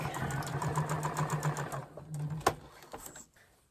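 Sewing machine stitching quilt fabric for a winter barn quilt, a steady close mechanical whir with rapid needle ticking that runs for about two seconds, then stops, followed by a sharp tap and quieter handling sounds.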